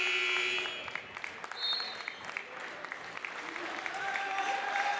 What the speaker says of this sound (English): And now here comes the round of applause for Brendan White